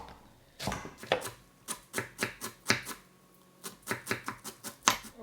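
A knife chopping parsley and carrot on a cutting board, close and crisp, with quick rhythmic bursts of cuts broken by short pauses, no talk.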